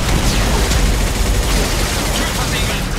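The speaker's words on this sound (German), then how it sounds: "Sind an der Tür umzingelt und unter schwerem Beschuss." Heavy, sustained gunfire in the video game Mass Effect 2, a dense and loud stream of shots and impacts with no break, with game voices faintly mixed in.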